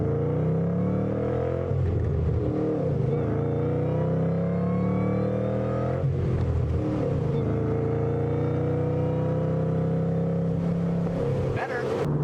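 A manual supercharged Mustang with an aftermarket cam and axle-back exhaust revs and accelerates in rising, falling sweeps, the engine roar loud and near with supercharger whine, while people talk over it.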